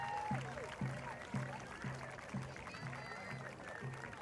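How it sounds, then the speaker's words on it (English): A crowd claps for seniors, cheerleaders, the student manager, football players and their parents at a Sheyenne High School football game, Mustangs vs Magicians. The applause is steady and moderate, with a regular low pulsing tone repeating underneath. "let's give a big round of applause for all of our seniors, cheerleaders, student manager, and football players, as well as their parents"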